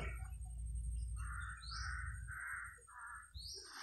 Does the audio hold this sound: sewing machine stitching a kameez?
no